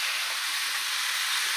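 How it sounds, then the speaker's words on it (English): Country style ribs sizzling on a hot BBQ grill, a steady broad hiss close up and constant throughout, with no voices. "Put my country style ribs out here. You see how this is sizzling."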